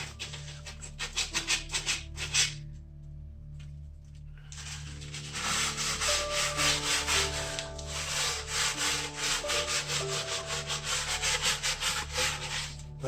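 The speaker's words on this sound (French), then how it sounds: "Un morceau de carton, pas de carton de journal, et on frotte un peu l'intérieur." Cardboard rubbed back and forth across the glass door of an Aduro wood stove, a steady scratchy scrubbing in rhythmic strokes with a brief pause midway, close and fairly quiet.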